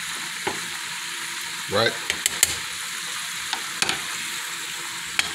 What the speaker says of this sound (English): You hear that stove flare.